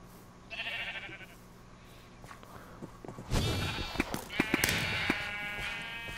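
Sheep bleat in the video game Sheep Quest amid game effects, a few nasal cries rising over thumps and clattering actions, the activity growing busier and louder toward the end.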